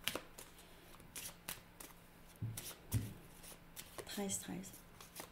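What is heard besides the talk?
tarot cards being handled and drawn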